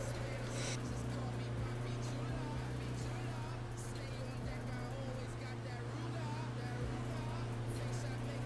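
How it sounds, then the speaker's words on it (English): Car engine droning steadily while driving a winding road in the video game H1Z1, a loud constant hum throughout with voices talking over it. "The car is so loud."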